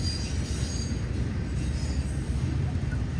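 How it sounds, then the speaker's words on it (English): A train rumbles through the downtown strip of Pacific, Missouri, a steady low roar with faint squealing wheels heard from outdoors, continuous and fairly distant, with no talk. "as you listen to the choo-choo of the train"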